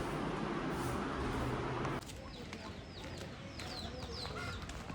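Chickens of various breeds cluck and chirp at a farmhouse in Karjat, faint scattered calls in the distance behind a broad wash of outdoor noise.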